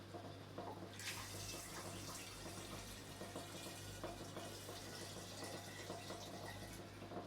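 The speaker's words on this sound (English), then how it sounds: "So I'm going to put about half a litre back into the demijohn." Distilling wash pours back into a demijohn mid-run, a steady close splashing trickle of liquid running on without pause, over a constant low hum from a circulation pump.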